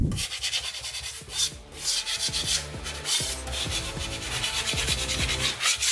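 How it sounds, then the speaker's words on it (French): Wall filler (enduit) sanded smooth by hand, with steady back-and-forth rubbing strokes, close and continuous, no voices. "Il vaut mieux prendre le temps de les poncer, de les amincir que de dire tentez plus de remettre de l'enduit"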